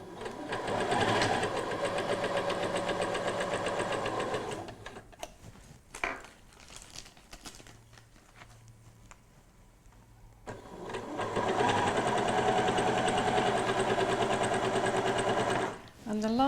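A sewing machine stitches down a bridesmaid dress seam, its rapid steady whir running for several seconds, pausing through a quieter stretch, then starting again for another long, even run.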